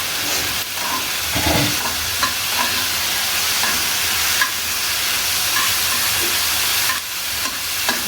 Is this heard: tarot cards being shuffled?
no